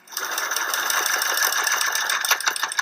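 A sewing machine stitching fabric masks runs steadily at a fast, even stitching rhythm, close and fairly loud, with no talking.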